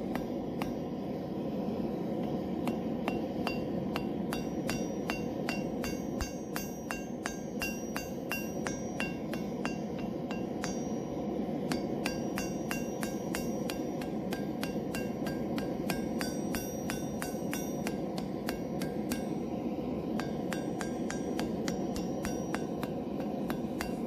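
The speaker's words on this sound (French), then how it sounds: "Donc ici on vient frapper notre rivet" A hammer strikes a rivet on blacksmith-forged slot tongs in a rapid, regular series of sharp metallic clinks over a steady background hum, continuing for over twenty seconds with no talking.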